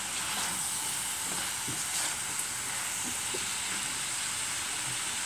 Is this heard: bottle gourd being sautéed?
yes